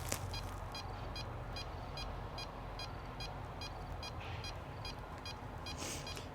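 A regular series of short electronic beeps from a paranormal investigation device in a cemetery, evenly spaced and steady, sounding over a constant low background hum.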